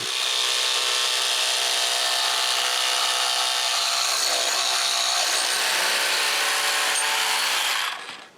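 A wooden chainsaw mill rips through a log, a loud continuous high-pitched buzzing whine with rough cutting texture, running steadily for several seconds before cutting off abruptly.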